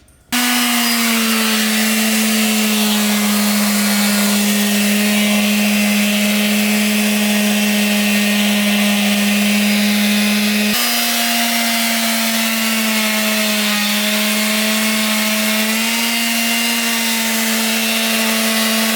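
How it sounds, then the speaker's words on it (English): A power sander whines continuously at a steady high pitch, loud and close, sanding lettering on a metal valve cover in a garage, with a slight shift in tone partway through. "I finally sand the letters down on the valve cover"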